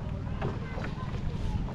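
A motorboat running on only one of its engines on rough open sea near Sipangkot, Tawi-Tawi, giving a steady broadband drone with wind rush and water noise throughout, under faint talk.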